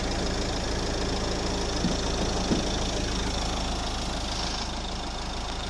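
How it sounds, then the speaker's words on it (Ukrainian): A 2009 Nissan Qashqai 1.5 dCi K9K diesel engine idles steadily with a low, even rumble and faint knocking clatter. It is continuous and fairly quiet, with no voices. "Ось робота двигуна."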